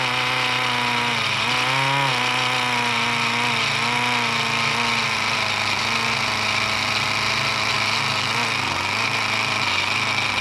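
A vintage pneumatic air tool in a machine shop runs continuously and loudly, a buzzing, whining drone with slight wavering pitch throughout, no voices over it.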